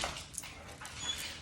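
A dog whines and scratches at a bedroom door indoors, with faint soft whimpers and light scraping heard at low level across a short moment, and no talk.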